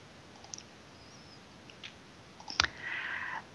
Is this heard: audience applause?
no